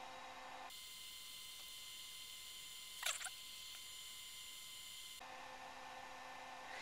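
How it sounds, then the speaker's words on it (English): An old Pentium III desktop computer on an Intel SE440BX-2 board whirs with a steady fan and tonal hum while counting RAM at startup, faint and continuous, with a brief clicking burst partway through. "Remember when computers used to sound like this?"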